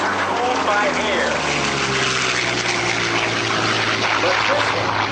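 Propeller airplane with a liquid-cooled 1940 Allison V1710 engine of over 1,600 horsepower flying at an air show, a loud steady droning engine roar under a commentator's voice.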